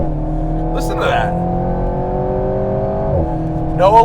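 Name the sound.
four-cylinder car engine revving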